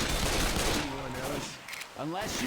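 Rapid gunfire from Left 4 Dead 2 crackles steadily and fairly loud, then dips briefly as a player speaks over it before resuming.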